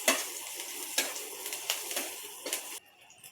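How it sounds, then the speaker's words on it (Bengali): Chopped capsicum and ginger fry together in a pan for chicken fried rice, with a steady close sizzle broken by light stirring clicks and scrapes; it stops abruptly near the end. "আমি একসঙ্গে ভেজে নিচ্ছি"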